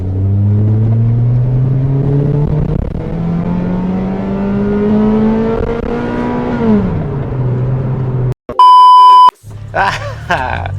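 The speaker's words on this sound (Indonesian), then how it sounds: "Jadi di rentang 6000 rpm dia hidup, suaranya makin gede seperti VTEC kick-in" A Toyota Celica TRD engine revs and climbs steadily in pitch as VVT-i kicks in around 6000 rpm, then drops back to idle, followed by a sharp loud electronic beep and brief voices.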